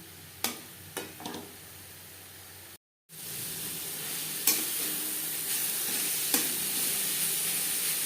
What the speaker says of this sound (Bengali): চার পাঁচ মিনিট মিডিয়াম ফ্লেমে শাক বেশ ভালো করে ভেজে নিয়েছে